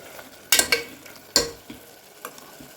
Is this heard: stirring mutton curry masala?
yes